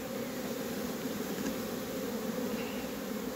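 Honey bees swarm around a hive being moved from a small nucleus box into a full hive, making a dense, steady, close buzz that never lets up.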